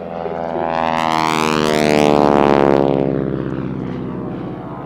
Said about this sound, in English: that very distinctive engine noise, this Pratt & Whitney one